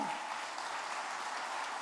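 Large audience applauds to welcome guests at a grand event, thick continuous clapping at steady volume for a couple of seconds.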